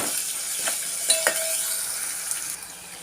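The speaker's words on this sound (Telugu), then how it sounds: "కొంచెం జీలకర్ర, కొద్దిగా ఆవాలు. ఇవి బాగా వేగనివ్వాలండి." Cumin and mustard seeds fry in hot oil, a steady close sizzle broken by a few light metallic clinks and spoon taps against the pan, with no talking.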